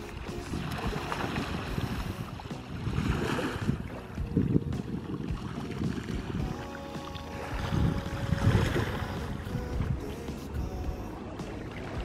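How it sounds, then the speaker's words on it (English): Waves wash in and retreat in slow, rolling surges, a broad rushing sound swelling and fading every few seconds, mixed with light wind. "Listening to the waves brings me a lot of joy."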